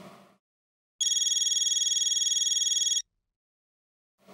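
A telephone rings in one steady, continuous electronic trill lasting about two seconds. It is clear and prominent, and brief moments of quiet come before and after it.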